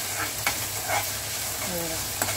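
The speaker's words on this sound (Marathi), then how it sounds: "ही अद्रक लसूणची पेस्ट त्याच्यात टाकली, तिला पण चांगली भाजून घ्यायची आहे" Ginger garlic paste frying in a pan for bamboo shoot bhaji, a steady close sizzle broken by a few brief scrapes of stirring.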